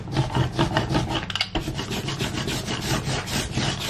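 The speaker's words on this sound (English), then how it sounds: "Any excess, take off with the cloth. Super easy to get off. You just rub it off" A cloth rubs excess gesso off a painted surface with steady, rhythmic back-and-forth rasping strokes, close and clear with no talking.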